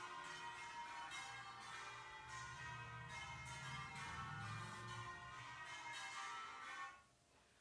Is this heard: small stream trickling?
no